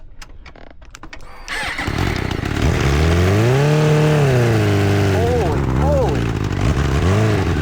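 A homemade 130mph-capable dirtbike engine fires up after some clicks and clatter, then revs hard in loud rising and falling sweeps, close and buzzing, with a brief voice at the start.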